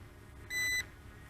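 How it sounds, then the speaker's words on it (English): Remote control of a BAYANGTOYS X28 2.4G FPV RC drone emitting a single steady electronic beep of about a third of a second as a low-voltage warning, standing out over faint background hiss. "the remote is beeping"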